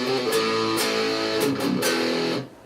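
An electric guitar lick, a quick run of distorted picked notes with several sharp attacks, played alone for a few seconds before cutting off.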